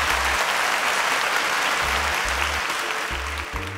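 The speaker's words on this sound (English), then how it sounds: "A round of applause." A studio audience on a televised quiz show bursts into loud, sustained clapping that fades slightly near the end, with a low pulsing music beat running beneath.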